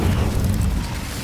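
An Incendio fire spell in the video game Hogwarts Legacy erupts as a short, loud roaring burst of flame. The low rumble is heavy and lasts about a second.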